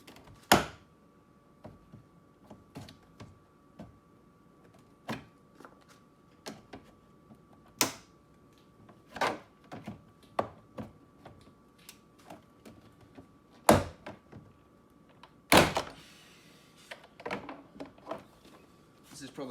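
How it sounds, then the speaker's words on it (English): Pry tool working a BMW 1 or 2 Series F20/F21/F22 front door card loose, with scattered sharp clicks and snaps from plastic clips at irregular intervals, fairly faint and close, beneath occasional quiet handling noise. "Insert the tool in this corner of the door card here"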